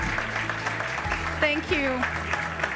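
Audience applause at the EIT Jumpstarter main stage event as people are called up on stage: steady, moderately faint clapping runs the whole time beneath a voice briefly speaking.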